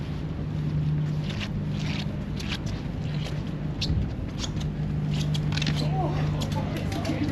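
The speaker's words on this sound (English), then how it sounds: "So, Mary, we're going on the boat." A boat engine hums low and steady under wind noise and light splashing on a city waterway in winter, with people chatting nearby over the ride.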